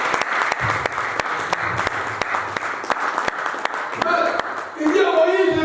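A church congregation breaks into loud, continuous applause with some sharp individual claps standing out. Voices and cheering swell over it toward the end.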